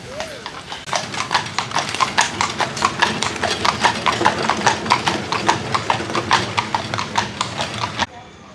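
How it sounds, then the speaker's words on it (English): Hooves of a horse pulling a carriage clip-clop on a street in Colonial Williamsburg, a steady, evenly spaced series of sharp clops growing a little louder as it approaches, with quiet talk in the background. "Oh, I have a horse and carriage coming."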